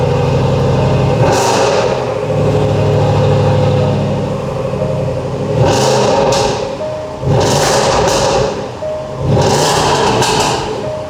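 A Range Rover SVR's V8 engine roars and revs repeatedly, several sharp throttle blips rising and falling over a constant loud idle rumble, close and powerful.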